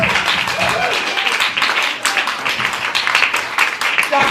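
Dense, steady applause and clapping from an audience at an improv comedy festival, loud and continuous with a few cheers and voices mixed in.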